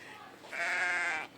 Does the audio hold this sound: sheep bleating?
yes